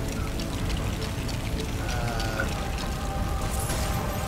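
A steady, full-band rush of falling water comes from the Batcave waterfall in the LEGO Batman 3: Beyond Gotham video game, continuous and fairly loud, with faint game tones above it.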